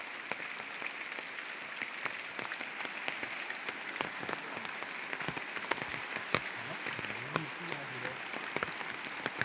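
Steady rain patters on leaves and ground, with scattered heavier drops splashing nearby; a faint voice murmurs briefly in the background.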